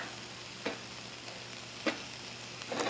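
Okra sautéing in a pan on a home stove, giving a faint steady sizzle with a few soft clicks of stirring or the pan shifting, heard alone without talk.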